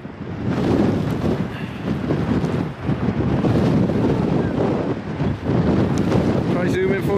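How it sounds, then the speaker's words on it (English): Strong gusting wind buffeting the microphone on a wet, windy shore excursion, a loud continuous rumble that swells and dips throughout. "It's so windy."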